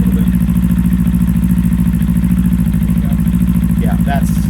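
A 2024 Kawasaki Eliminator 450 motorcycle fitted with a Coffman's Thunder exhaust idles steadily up close, a loud, even low throb with a rapid regular pulse throughout.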